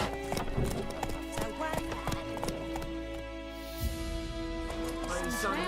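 Roach the horse in The Witcher 3, hooves clip-clopping in a steady trotting rhythm, with a brief whinny, under a man's speech and background music.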